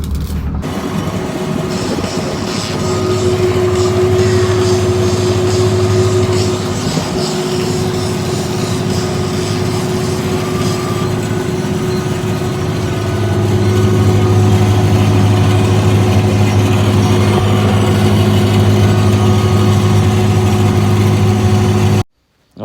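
A tractor engine hums steadily at mid distance while pulling a seed drill sowing Lynx spring beans, the drone swelling slightly louder partway through and continuing without pause until it cuts off abruptly.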